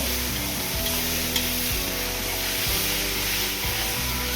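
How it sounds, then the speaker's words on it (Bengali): Onions and ginger garlic paste fry in hot oil for a mutton curry, a loud steady sizzle broken by repeated scraping stirs of a spatula in the pan. "পেঁয়াজগুলো একটু ভাজা হয়ে গেলে এর মধ্যে দিয়ে দেব আদা রসুন বাটা"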